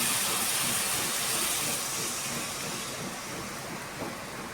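Water boiling in a pan of tomato curry, a loud, steady hissing bubble close by that continues unbroken and eases slightly toward the end, with no talk.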